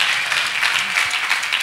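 Church congregation at Shekinah Glorious Faith Ministries clapping for Jesus, a dense, steady wash of many hands filling the room loudly from start to finish with no pause.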